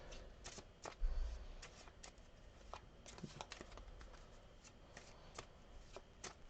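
Tarot cards are shuffled in quick, crisp riffles and soft slides, a close, quiet run of repeated card flutters with a small thump near the start and no talking.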